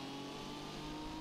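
A race car engine in the Gran Turismo video game on PlayStation, following close behind the player, gives a steady, droning mid-pitched whine for a brief moment, moderately loud and with no talk over it.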